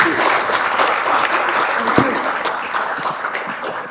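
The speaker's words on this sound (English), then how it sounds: "please give a big hand of applause to our panel" Audience at a national management convention applauding a panel, sustained dense clapping from a large hall that swells early and slowly tapers, with scattered sharper claps and some voices mixed in beneath.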